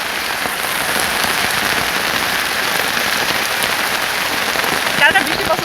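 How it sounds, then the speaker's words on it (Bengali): Steady rain falls close by in a dense, even patter on surfaces, a continuous wash of drops with a faint voice briefly near the end. "অনেকদিন পরে বৃষ্টিতে ভিজতেছি"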